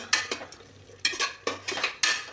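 A metal spoon stirs spices and coriander powder in a pan for mutton curry, making quick clattering scrapes against the metal in irregular bursts with a faint sizzle underneath.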